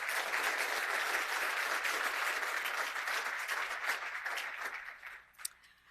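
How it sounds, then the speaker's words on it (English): A conference audience gives the event's sponsors a sustained round of applause, dense steady clapping from a large crowd that thins and fades out near the end. "Can we please just give a really deep gratitude sounding round of applause to"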